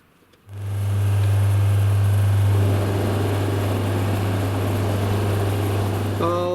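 A wooden pen blank spins on a lathe on bushings, starting with a sudden loud steady hum that settles into a continuous whirring drone with a rough scraping texture, and a brief clink at the end.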